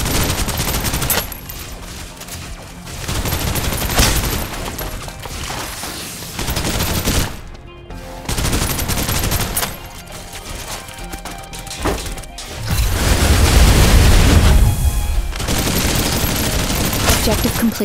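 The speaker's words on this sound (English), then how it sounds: "Suppressive fire." Dense, loud suppressive gunfire bursts from Snowbreak: Containment Zone on PC, in repeated volleys with short gaps and a heavy low rumble in the later part.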